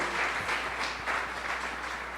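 A church congregation applauding steadily during a sermon, a dense wash of clapping that holds at an even level throughout with no voices.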